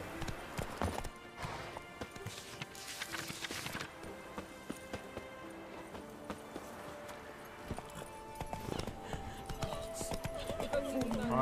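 Roach, the horse in The Witcher 3, clip-clops at a run in a steady hoofbeat rhythm, fairly quiet and mixed under game music, effects and a man's speech.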